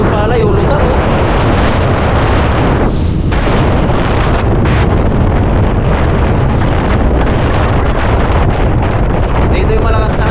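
Strong typhoon wind sweeps across flooded rice fields, a loud, unbroken roar of wind battering the microphone, with a voice faintly buried beneath it.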